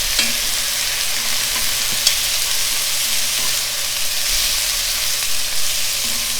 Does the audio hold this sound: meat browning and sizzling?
yes